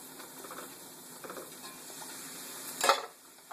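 Potatoes fry in a pan with a soft sizzle and faint stirring scrapes, ending in a brief louder hiss and clatter.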